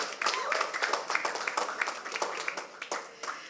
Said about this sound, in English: a big round of applause for our esteemed partners and representatives of Filmfare.